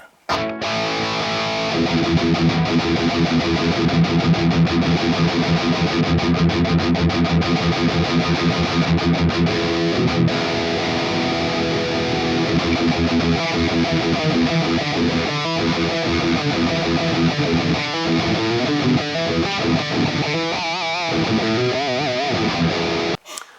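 Distorted electric guitar through an ML Sound Lab Mesa Boogie Mark 2C+ amp plugin with the drive low and the level up, playing sustained high-gain chords and riffs continuously and loud, with no talking.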